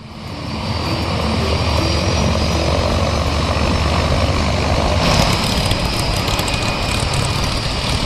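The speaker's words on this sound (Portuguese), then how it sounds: "O Mallard Grumman possui 2 turbohélices." Twin turboprop engines of a Grumman Mallard seaplane, a loud continuous close roar and propeller drone that swells after the first second and holds steady, with a whining tone rising in pitch midway.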